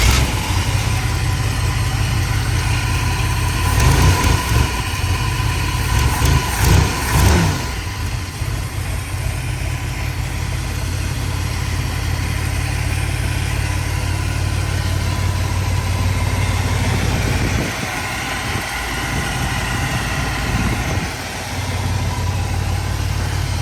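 A Buick V6 225 engine fitted with a new HEI electronic distributor and a 2100 carburetor idles steadily and loudly, with a brief rise in revs partway through and no talking.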